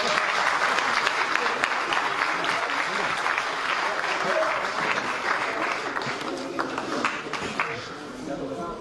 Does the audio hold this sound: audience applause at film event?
yes